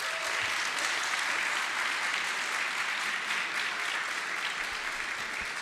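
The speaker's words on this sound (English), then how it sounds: "Let's give them a round of applause one more time." Continuous crowd applause at a Pulaski Day celebration honoring youth ensembles, even and fairly distant in level, with no voices over it.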